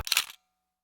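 A camera shutter fires once for a test shot of a night-sky star time-lapse, a single close, sharp mechanical click with a brief rustle that ends abruptly, followed by silence.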